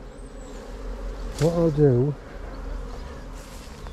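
Honey bees hum steadily at an open hive as it is put back together, a low continuous buzz beneath someone speaking briefly in the middle.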